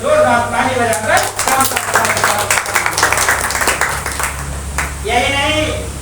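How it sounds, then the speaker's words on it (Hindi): A crowd at a political party's foundation-day rally in Lucknow applauds, a dense patter of many hands filling the middle stretch while a speaker's amplified voice is heard before and after. "आपको अगर हमारी बात अच्छी लगती हो तो जोरदार ताली बजाकर"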